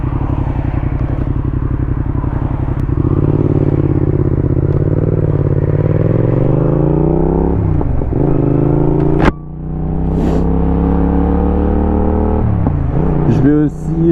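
A Yamaha XSR 700 motorcycle engine drones steadily at cruising speed in normal riding, loud and close, with pitch dips at gear changes and rising revs as it pulls away again.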